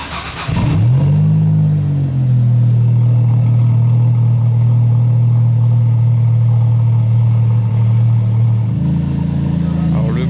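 A 640-horsepower V6 supercar engine on a Monaco street, a loud, deep, sustained low drone that swells at the start and holds steady, with a voice talking over it.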